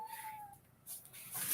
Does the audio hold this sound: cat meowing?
yes